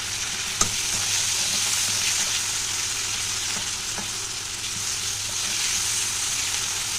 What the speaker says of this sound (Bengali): নুনটা দিলে না টমেটোটা তাড়াতাড়ি একটু ভাজা হয়ে যাবে